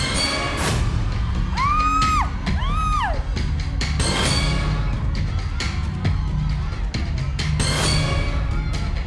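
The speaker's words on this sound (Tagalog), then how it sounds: "Sigaw ng ating mga kababayan!" Studio audience on a Filipino cash-or-box game show shouting and cheering loudly, with whoops and yells rising in bursts throughout, mixed with sharp bangs and a host's excited voice.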